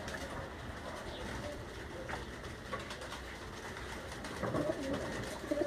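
Pigeons on a rooftop in Gujrat coo softly over a steady low background hum, the calls growing a little more noticeable toward the end.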